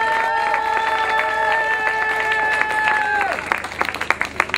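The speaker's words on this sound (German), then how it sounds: "Bitte um einen Riesenapplaus für Martina Kainz" An outdoor audience at a statue dedication in Mistelbach claps for Martina Kainz, steady applause mixed with a crowd murmur and sustained tones, thinning to scattered sharp claps at the end.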